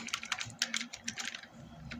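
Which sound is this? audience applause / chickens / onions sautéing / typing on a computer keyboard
typing on a computer keyboard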